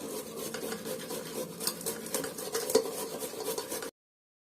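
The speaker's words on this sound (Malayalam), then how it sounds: "ഇത് മൊത്തം ഞാൻ ഉരച്ചിടുക വേണ്ടത്" Hand grating of raw tapioca, a steady scraping rasp repeated in quick strokes, close and fairly quiet, with no talking, ending abruptly.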